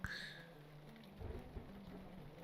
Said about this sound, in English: it's a nice mid-spring day with rain just coming down